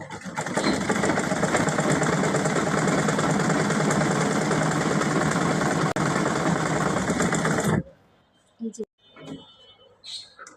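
Sewing machine running steadily and loudly for about eight seconds while stitching a rubber piece, then stopping, followed by a few faint handling sounds.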